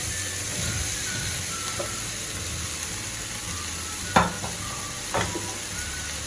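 Pumpkin pieces stirred into sizzling ginger and garlic paste and spices for an Indian-style vegan pumpkin curry. A steady close frying hiss runs throughout, broken by a couple of sharper scraping stirs near the end.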